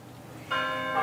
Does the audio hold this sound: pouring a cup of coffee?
no